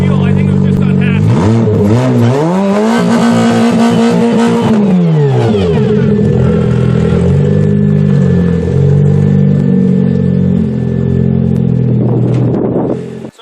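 Mini Cooper being readied for a demolition derby fires up and revs hard, its engine climbing and falling in pitch, then settling to a loud uneven idle with another rev at the end.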